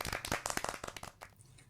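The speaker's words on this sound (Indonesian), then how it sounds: "Tepuk tangan semuanya." Students clap in a classroom, a brief burst of quick, uneven handclaps from a small group that trails off within two seconds.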